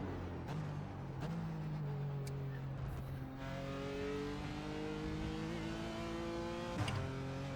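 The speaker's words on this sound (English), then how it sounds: "That rattle isn't the brrr that you'd expect over the sawtooth." A BMW M4 GT4 race car in a racing video game, its engine droning steadily with shifting pitch as it rattles over a sawtooth kerb, loud and continuous throughout.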